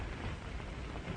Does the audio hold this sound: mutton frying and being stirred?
no